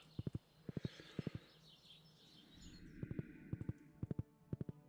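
Horse hooves clip-clop in the Stardew Valley video game, sounding in short rhythmic clusters of three or four crisp taps that repeat steadily across the scene, with a bright high tone and soft background music layered underneath.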